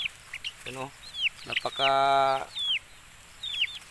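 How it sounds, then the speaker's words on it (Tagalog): Chickens cluck and squawk inside a coop, with several close, loud calls, including one long drawn-out squawk, over quieter chirps and a little background talk. "mababait ang mga manok natin"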